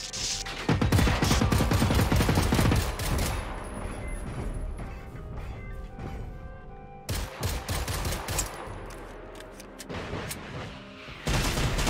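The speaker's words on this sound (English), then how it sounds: "He's over here trying to shoot me." Video game gunfire in Generation Zero crackles in dense, loud bursts of rapid shots, tapering into scattered single cracks before another volley erupts near the end.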